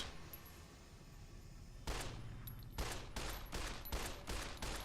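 Gunfire in Fallout: New Vegas: after a quiet opening, a run of loud, sharp shots cracks out in quick succession, roughly a half-dozen bursts in the last few seconds, with no talking.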